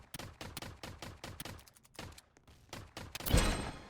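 Rapid gunfire from a Roblox shootout game, with repeated sharp shots in bursts and a louder, closer blast near the end, and no talking over it.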